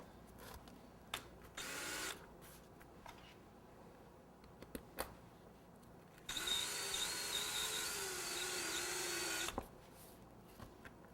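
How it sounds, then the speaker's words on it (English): A power drill whirs in a steady burst of about three seconds while driving into a cupcake tower, preceded by a shorter whine and scattered clicks and knocks of handling tools. "If it's sticking up too much, then you need to drill it in just a little bit more."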